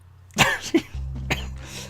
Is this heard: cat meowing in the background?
no